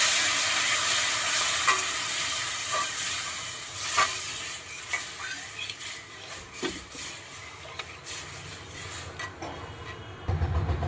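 Semolina fried in a pan while being stirred makes a dense frying hiss broken by repeated scraping and clinking strokes of the spoon. The sound is close and carries on steadily with no voices.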